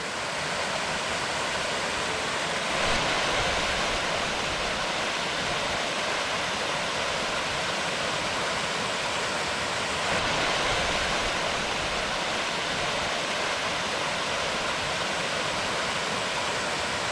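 A waterfall beneath a rocky crag pours steadily into a pool, a dense, continuous roar of rushing water, loud and unbroken throughout with no voices.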